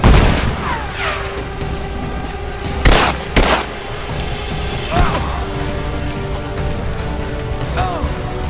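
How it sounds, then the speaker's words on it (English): Gunfire from covering fire in Rise of the Tomb Raider, set in a Soviet installation: a couple of loud, close shots stand out over a busy backdrop of mechanical clatter and ambient game noise, with a later softer burst. "Laying down covering fire!"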